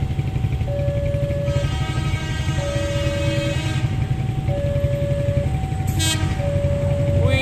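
A feeder train rumbles past loudly and steadily while its horn sounds in repeated long two-tone blasts, with a brief metallic squeal near the end.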